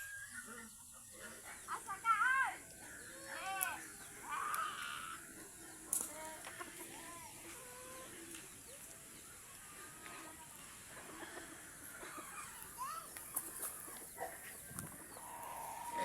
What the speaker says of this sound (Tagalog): Ito naman yung alaga namin para inahin guys